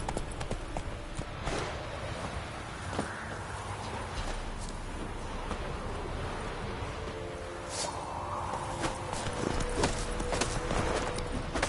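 Horse hooves clip-clop steadily through a fantasy setting in The Witcher 3: Wild Hunt, the rhythmic footfalls mid-distance and continuous over a low ambient bed, with no talk.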